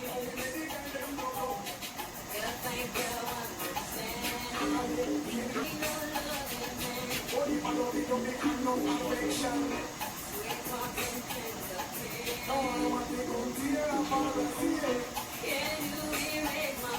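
An electric mixer blending sugar into cake batter for a Jamaican flag cake, a steady whirring hum with a slightly rising and falling churn, continuous and fairly close.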